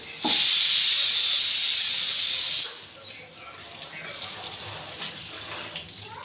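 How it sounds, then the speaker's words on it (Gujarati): Grains rinsed in a basket under running tap water: a loud, steady gush of water for about two seconds cuts off abruptly, followed by quieter wet swishing and trickling as the grains are washed. "તો ડાયરેક્ટ આપણે દાણા ધોઈ લઈશું"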